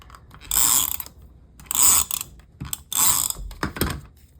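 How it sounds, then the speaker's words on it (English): A tape runner lays adhesive onto a card back piece in three close, separate ratcheting strokes, each a dry clicking zip lasting about half a second, followed by softer clicks. "I'm going to use my tape runner for that."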